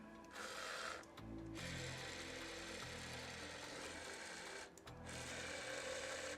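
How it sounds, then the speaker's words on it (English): A faint, steady electric whir comes from the power side mirror motor on a BMW E46 sedan fitted with OEM M3 mirrors, running in two stretches with a brief pause between them. "I hear the motor."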